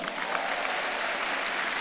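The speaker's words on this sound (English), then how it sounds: "Give yourselves a round of applause." Dense applause from a large crowd at a commencement ceremony, steady and sustained throughout with no gaps.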